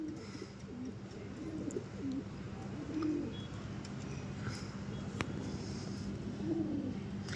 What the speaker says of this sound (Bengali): যে পায়রা ডাকছে